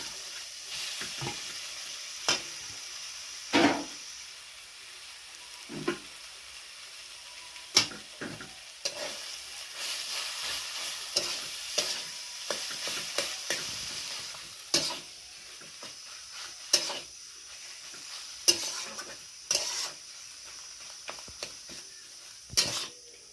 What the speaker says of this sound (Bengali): এই পর্যায়ে যে জিনিসটা করতে হবে বন্ধুরা, আলুটা দিয়ে দেবো।